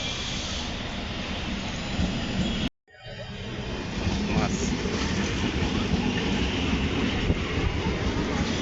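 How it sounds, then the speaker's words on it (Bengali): A Chennai local train at night, running from Perambur to Chennai Central, rumbles steadily along the tracks with a constant roar and faint clatter, broken by one sharp momentary dropout before the noise resumes. "এটা আমাদের গাড়ি এই ট্রেনে আমরা যাচ্ছি"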